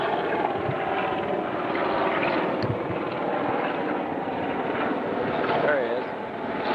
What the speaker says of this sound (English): Look at the Navy helicopter